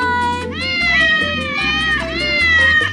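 A cat meows repeatedly in long, rising and falling wavering calls, loud and close, over a steady low pulsing backdrop.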